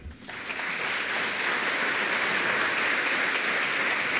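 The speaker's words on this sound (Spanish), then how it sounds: "Y les pido que la reciban con un aplauso." A conference audience breaks into applause to welcome a speaker, the clapping swelling quickly after a brief pause and holding as a dense, even roar of many hands.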